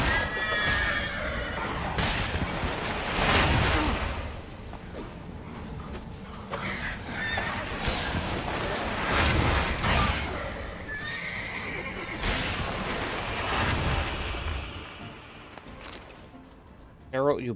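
Horse neighing and whinnying in The Witcher 3 video game, several loud whinnies with hoof clip-clops scattered across the moment, alongside someone speaking.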